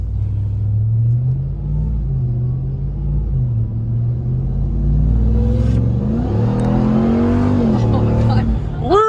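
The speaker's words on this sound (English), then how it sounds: "You can hear the supercharger, the whine of the supercharger." A loud engine rumble builds as a 2021 RAM TRX pickup accelerates, a rising supercharger whine climbing in pitch over the roar, with a voice briefly heard.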